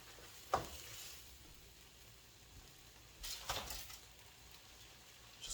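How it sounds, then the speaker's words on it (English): Shrimp and vegetables sizzle quietly in a wok, a soft steady frying hiss broken by a sharp clank early and a scraping stir a few seconds later. "And just put it in the wok. It's a little bit easier to stir"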